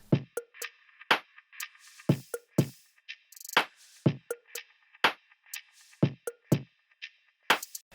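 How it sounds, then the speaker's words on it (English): A Splice drum loop plays alone, with punchy kicks, crisp snares and clicky hi-hat and percussion hits in a steady syncopated groove, fairly quiet, no voices. "Then I found this drum loop from Splice, which sounds like this."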